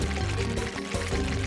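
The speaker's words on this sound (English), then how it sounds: "let's go ahead and plant down the cacao along with the grape seed, then water those puppies up" Watering freshly planted cacao and grape seeds in the Roblox game Grow a Garden gives a continuous, fairly loud pouring splash layered over bright tonal game music, with a brief dip near the middle.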